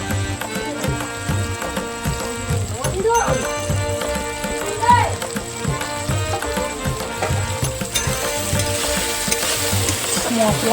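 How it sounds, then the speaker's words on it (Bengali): Spices and chicken sizzle and fry in a pan while being stirred slowly, a continuous close crackle broken by repeated scraping stirs. "ভাজা শুরু করলাম গন্ধেই যেন মনে হচ্ছে কিছু একটা হচ্ছে এখন চিকেনটা ঢেলে দিলাম আর আস্তে আস্তে নাড়ছি"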